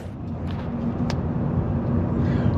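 Steady engine rumble and road noise inside a car driving from Marín toward Pontevedra in Galicia, a constant close hum with a faint brief click partway through.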